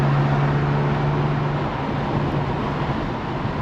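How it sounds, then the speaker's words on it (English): Low, steady rumble and broadband roar of a slammed Infiniti Q50 Red Sport driven at night with an exhaust leak, a continuous drone with a low hum running throughout, no talking. "But no wonder I got an exhaust leak"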